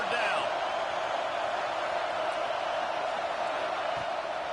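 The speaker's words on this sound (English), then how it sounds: "Decibels rising as the crowd gets behind this defense on 3rd down" A stadium crowd at an Aggies football game roars on third down, a dense continuous wall of cheering that holds steady and loud from start to finish.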